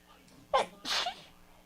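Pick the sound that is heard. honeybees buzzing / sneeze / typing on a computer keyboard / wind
sneeze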